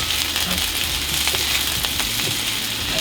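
Peppers and onion fry in a pan for vegan mac and cheese, a continuous close crackling sizzle with small pops, steady throughout and free of talk.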